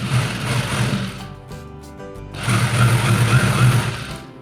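A sewing machine stitches a seam on a ladies shirt, running in a fast, close, rattling whir that stops briefly midway and then starts again at the same steady pace.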